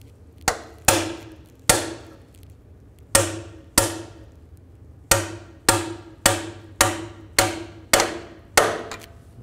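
A hammer taps an axle seal into the rear axle housing of a 2000-06 GMC Yukon, a dozen sharp metallic strikes in an uneven rhythm, close and loud with ringing decay and no talking.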